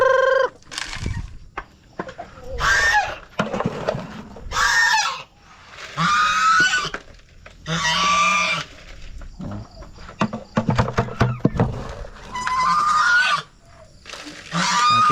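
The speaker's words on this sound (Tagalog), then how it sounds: "Natakot tong gansa." A frightened goose on a small farm honks repeatedly and loudly close by, in a series of harsh bursts spread across the stretch with short pauses and a few sharp clicks between them.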